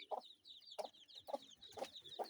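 Kienyeji hens on a Kenyan farm give soft, repeated clucks about every half second, quiet and close, with faint high chick peeps running underneath.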